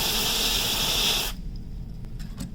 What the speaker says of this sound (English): now I'm gonna freeze the RAM surface with the compressed air canister